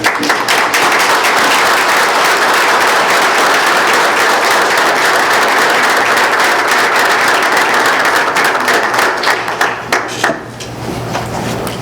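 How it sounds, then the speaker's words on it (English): Loud, sustained applause from a crowd at a city council meeting in Dunkirk, New York fills the space, steady for several seconds before tapering off into scattered claps. "let's give each of these young people a round of applause"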